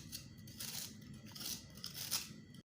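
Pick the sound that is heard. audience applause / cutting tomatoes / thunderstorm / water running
cutting tomatoes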